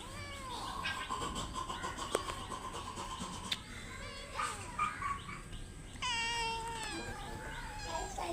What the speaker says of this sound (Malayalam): ഗൈസ് ഇവിടെ പൂച്ചകൾ കിടന്ന് ഉറങ്ങുന്നുണ്ട്.